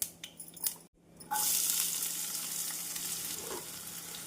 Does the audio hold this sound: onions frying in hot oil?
yes